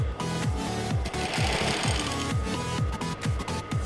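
A sewing machine stitches the waistline of a native Sokoto trouser, running in quick rhythmic bursts with brief pauses, close and steady throughout with no talking.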